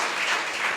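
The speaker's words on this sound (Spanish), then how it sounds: "Puede darle un aplauso a ese Cristo maravilloso." A church congregation applauds in a brief, steady wash of clapping.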